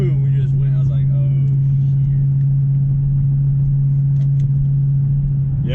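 A 2016 Dodge Challenger SRT Hellcat's supercharged engine holds a steady, loud low drone with rumbling texture throughout, with people talking over it inside the car.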